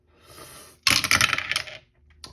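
Dice tumbling and clattering across a table during a solitaire board game, a loud burst of rattling that settles after about a second, followed by a single faint click.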